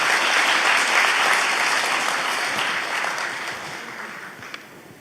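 Sustained audience applause fills a military service honors ceremony hall after a performance by singing soldiers, a dense steady clapping that stays loud and slowly fades toward the end.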